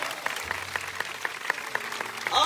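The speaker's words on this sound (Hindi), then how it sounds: "ਜ਼ੋਰਦਾਰ ਤਾਲੀਆਂ।" Loud, sustained applause from a congregation at a revival meeting, many hands clapping together in a dense, even roar with some individual claps standing out.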